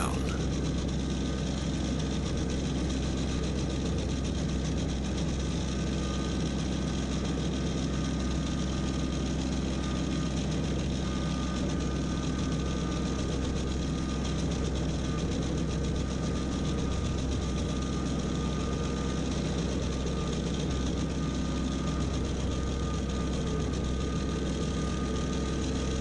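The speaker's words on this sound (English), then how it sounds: "Now this is a 5-foot sickle bar mower on a very small tractor." A Kubota BX25 compact tractor runs with a 5-foot sickle bar mower, a loud, constant engine drone with a steady mechanical chatter that holds unbroken throughout.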